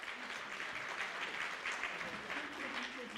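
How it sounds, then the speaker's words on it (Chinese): A church congregation applauds at a Christmas praise service, a steady wash of clapping from many hands that fills the whole clip evenly, with a faint murmur of voices mixed in. "我们也给他们热烈的掌声好吗？"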